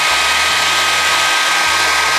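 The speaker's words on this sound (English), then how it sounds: "I'm gonna use a hair dryer right away." Hair dryer blowing steadily and loudly up close on a carbon fiber decal for a Ferrari 488 Pista model, a continuous broadband whoosh with a constant motor whine throughout.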